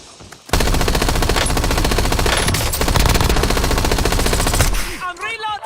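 Rapid automatic gunfire rattles nonstop for about four seconds in a Resurgence-mode shooter match, loud and close, before cutting off with a voice speaking briefly at the end.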